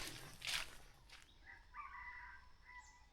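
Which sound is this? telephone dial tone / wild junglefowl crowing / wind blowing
wild junglefowl crowing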